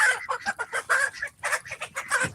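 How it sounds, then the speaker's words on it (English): Roosters cluck and squawk in quick, agitated bursts during a brief scuffle, a close flurry with short pauses as the birds jostle each other. "And that was a little rooster scuffle there."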